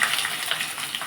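Onions hit hot oil with the tempering spices for Telugu-style upma, a steady bright sizzle that holds close and loud for about a second with no voices.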